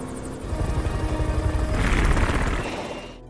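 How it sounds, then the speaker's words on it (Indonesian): A helicopter takes off with a loud, rapid rotor chop that swells in volume, close and dominant, then eases slightly toward the end. "Ketika helikopter itu akan terbang,"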